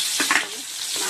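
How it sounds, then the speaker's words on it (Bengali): Fish sizzles and spits steadily as it fries in hot oil for a home-cooked Bengali meal, with a couple of louder crackling bursts near the start and no voices. "বন্ধুরা মাছটা ভেজে নিচ্ছি।"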